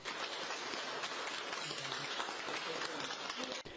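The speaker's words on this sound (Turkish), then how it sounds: "koronayı yenen 30 hasta alkışlarla taburcu oldu" Applause from hospital health workers at Hatay State Hospital as COVID-19 patients are discharged, a dense steady wash of clapping that sounds somewhat rain-like, continuous and fairly distant, ending abruptly.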